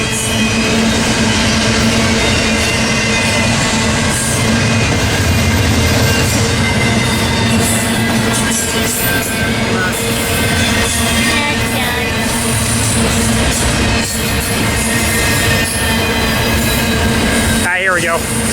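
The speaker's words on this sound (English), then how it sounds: "This is a big train." Big, long freight train rolling past at close range with a steady heavy rumble of wheels and cars, a continuous loud roar through the whole stretch and a brief squeal near the end, with a voice talking over it.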